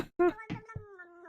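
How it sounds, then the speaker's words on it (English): Small cat drinking from a water cup, rendered as a short musical cat-song phrase: a few quick meow-like tonal chirps followed by a sustained wavering tone, close and clear with no talk. "That's the sound of a cat drinking water."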